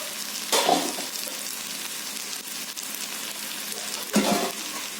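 Eggplant fries in a pan for chutney with a steady close sizzle, and two louder bursts of stirring and spattering break through about half a second and four seconds in, with no talking.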